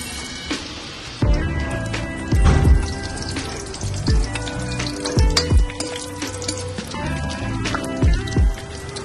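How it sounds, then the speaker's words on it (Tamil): Spices frying in fresh coconut oil for a South Indian mutton curry make a loud, close, continuous crackle and sizzle, with repeated utensil clatter and stirring knocks over it. "we'll be frying the spices."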